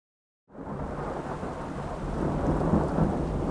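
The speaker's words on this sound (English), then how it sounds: "Torrential rain swamped the country within hours." Torrential rain pours down with thunder rumbling through it during a flood-causing storm in North Korea; the heavy, steady downpour starts abruptly after a brief silence and grows slightly louder, dense and close throughout.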